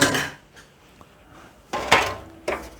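A disposable cake pan, likely thin foil, is handled in a kitchen, giving a few crinkly metallic rattles and clatters at close range, with quiet pauses between them and a louder burst near the end.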